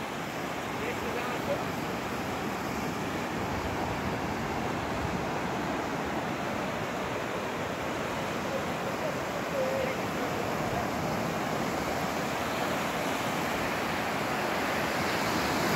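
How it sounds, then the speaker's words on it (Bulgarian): Stormy sea waves off Antalya roar in a continuous broad wash of surf, with wind buffeting the microphone throughout and no clear breaks between swells. "Морето е бурно."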